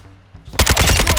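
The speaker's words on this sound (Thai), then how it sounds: "นี่คือวิ่งมาตามเสียงปืนที่เขายิงกันเลยนะครับ" A short, rapid burst of automatic gunfire in Call of Duty: Modern Warfare II on PS5 erupts after a brief quiet moment, loud and sharp with closely spaced shots.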